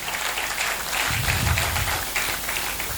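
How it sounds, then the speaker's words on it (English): Audience clapping at a university faculty lecture session, a dense, steady burst of many hands with a low rumble of room noise underneath midway, continuing evenly throughout. "Please clap once again."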